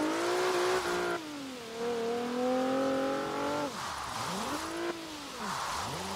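Nissan 370Z drifting in Forza Horizon 3, a loud engine revving up and dropping between shifts, with pitch sweeping in repeated swoops as the car slides, alone with no talk.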